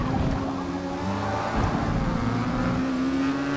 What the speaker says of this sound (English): slamming those downshifts